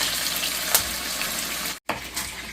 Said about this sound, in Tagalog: I-prepare na natin to habang piniprito natin yung chicken thigh.